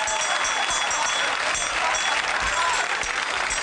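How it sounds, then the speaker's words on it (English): Studio audience applause on a comedy variety show, a dense, steady wash of clapping from a crowd that holds at even loudness throughout. "let's have a big round of applause and meet Les"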